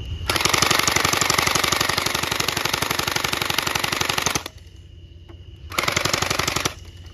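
Rapid automatic gunfire in a shooting video game, one long sustained burst followed by a pause and a second shorter burst, loud and close.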